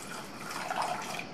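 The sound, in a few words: water poured into pressure cooker with soaked white peas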